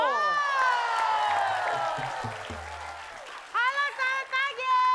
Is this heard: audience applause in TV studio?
yes